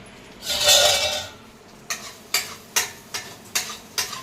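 Egg rice being stirred in a pan, a long scraping sweep followed by a steady run of sharp, evenly spaced scrapes and clinks of the spoon against the pan, close and clear with no voices.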